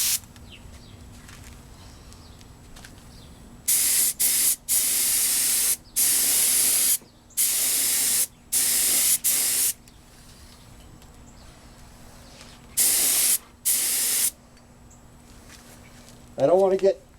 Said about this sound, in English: Now we just want to get 1 coat of clear on that white